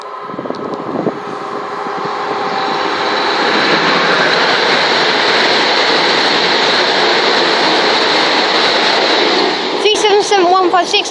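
An 8-car Class 377 electric train passing on the Brighton Main Line at Brockley, a broad rushing roar swelling up and holding loud and steady, with wheel clatter near the end.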